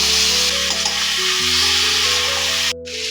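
Vegetables fry in a pan with turmeric and cumin powder for a tangra fish curry, a continuous close sizzle with a brief dip near the end, no talking.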